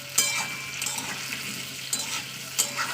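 Potato pieces frying in oil with onions in a home kitchen pan, a steady close sizzle with a few sharp clinks of stirring against the pan, heard alone without talk.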